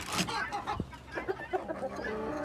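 Chickens and a rooster at a poultry farm in Samsun cluck in short, scattered bursts close by, with a few other bird calls and faint background voices.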